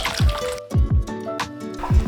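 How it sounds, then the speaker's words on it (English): Hot water is poured onto mangala dried fish while cooking egusi soup, making repeated gurgling splashes and sloshing pours in short bursts, loud and close. "And let's put hot water in this buddy, our mangala dried fish."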